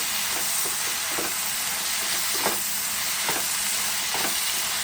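Steady sizzling hiss of broad beans frying in a pan, with soft stirring scrapes at irregular intervals and no voices.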